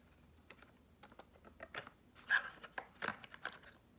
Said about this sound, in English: let's undo these 4 screws